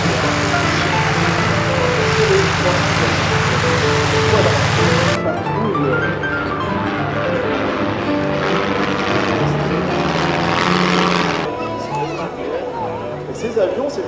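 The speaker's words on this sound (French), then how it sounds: "ces petits appareils de conception allemande que vous avez devant vous" Small German-designed propeller aircraft at the 2014 Lens airshow drone loudly and steadily overhead, the engine roar shifting in pitch as planes pass, with a constant wash of noise throughout.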